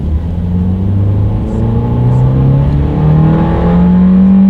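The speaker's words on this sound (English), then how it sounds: "Now let's do a quick little acceleration, see how quickly we can get this go-kart-ish 2019 Fiesta here up to speed." A 2019 Ford Fiesta accelerating hard, its engine note rising steadily through the revs as it pulls up to speed, loud and close with a continuous rumbling whir.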